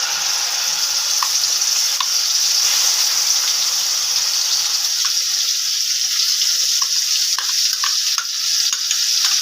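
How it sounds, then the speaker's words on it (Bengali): Cashew tomato paste hits hot oil with whole cumin, bursting into a loud, continuous hissing sizzle with small scattered pops, close and steady throughout. "এবার তৈরি করে রাখা কাজু টমেটো পেস্ট ঢেলে দেব।"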